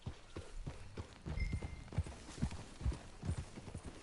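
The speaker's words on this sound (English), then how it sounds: "Never mind, that's a horse." A horse's hooves clip-clop in Red Dead Redemption, a close, steady walking rhythm of distinct thuds at roughly half-second intervals, with no talk over them.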